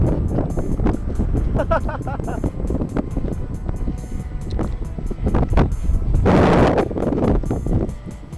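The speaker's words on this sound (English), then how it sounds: "Oh, it's windy." Wind roars over the microphone outdoors while a Dynam HawkSky RC plane is flown, a loud, gusty rumble that never lets up, with people talking over it throughout.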